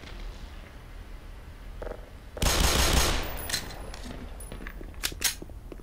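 Submachine gun fire in the game Half-Life 2: a loud dense burst of rapid shots, followed by scattered single cracks and clicks over a low background hum.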